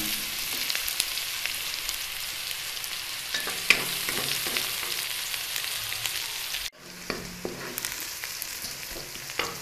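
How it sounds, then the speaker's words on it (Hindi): Onion frying in a pan with ginger-garlic paste, stirred steadily: a constant loud sizzle with scraping strokes of the spoon, a brief drop in level near the end, then the sizzle resumes, with no voices. "ये शामिल करने के बाद इसको अच्छे से चला देना है और तकरीबन इसको 1 मिनट तक के लिए पका लूँगी मैं"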